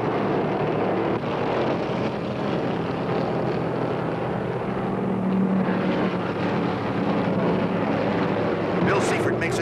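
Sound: Dodge Charger Hemi race car engine, 1972 Motor State 400

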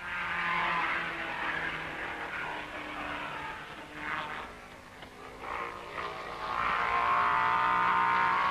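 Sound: racing car passing at speed, Spa Raidillon, 1950s

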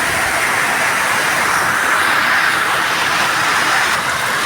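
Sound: cars passing by on a roadside in rain

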